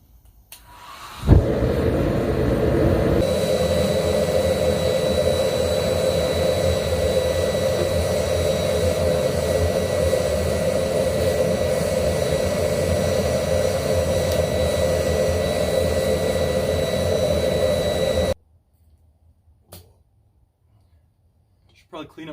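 A homemade forge burner roars loudly and steadily after igniting with a sharp pop, ahead of heat treating a boreal machete, then cuts off abruptly, leaving near silence.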